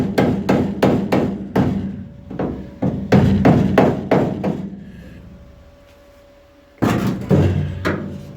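Sharp metallic toffee hammer blows on a Mk V Cortina body panel strike in quick rhythmic runs, pausing briefly with a faint hum between groups before another burst of strikes.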